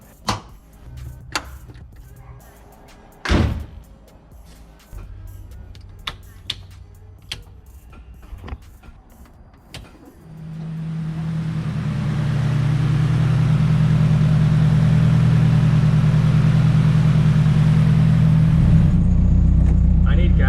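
A Nissan S14 starts up after some clicks and a door thunk, its engine settling into a loud, steady idle close by for the second half.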